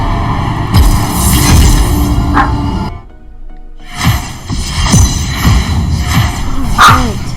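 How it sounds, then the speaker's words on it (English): A dog named Lou barks in sharp, repeated bursts close by at home, several loud yips and woofs scattered across the stretch with a brief quiet gap midway, amid thumping household noise. "Stop barking."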